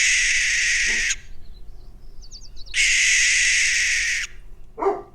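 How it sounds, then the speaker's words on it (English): A barn owl's harsh, hissing screech, recorded: two long rasping screams separated by a short gap, loud and close, with faint clicking between them. "This is a barn owl."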